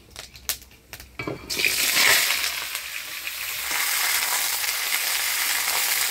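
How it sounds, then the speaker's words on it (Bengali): Black cumin seeds and dry chillies hit hot oil, opening with a few sharp taps and then bursting into a loud, close, steady sizzle that crackles on to the end. "ফোড়নে দিব কালো জিরা আর শুকনো লঙ্কা"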